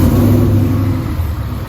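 A supercharged Ford F150 engine revs hard, a loud, close, roaring burst with a steady low drone that eases slightly toward the end, with no voices.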